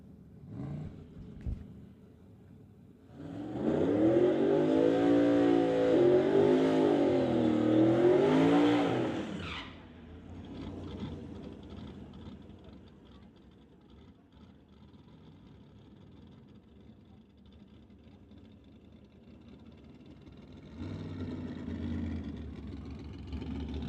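A drag racing car at an outlaw shootout event spins its tire under throttle, a loud warbling engine howl lasting several seconds before the driver lifts off, then a quieter distant rumble and a later engine rise.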